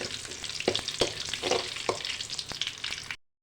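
Cumin seeds and small shallots fry in hot oil for sambar, a dense close crackle with quick popping bursts and spoon taps, cutting off abruptly.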